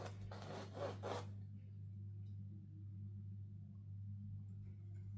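A few quick, scratchy drawing strokes scrape across paper at the start. The rest is near silence over a low steady hum.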